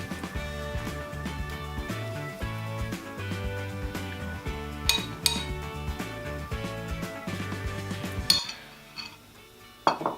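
A spoon scraping and clinking against a bowl while pizza sauce goes onto pizza dough, a busy rhythmic clatter of metal on dish, close and moderately quiet, with background music.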